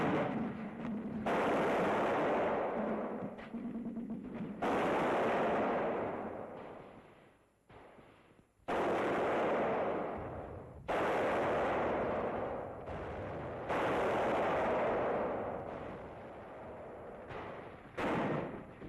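Covering gunfire and 2-inch mortar fire roll through house-to-house fighting near a church, long bursts of booming, crackling shots and blasts separated by brief lulls, distant and muffled.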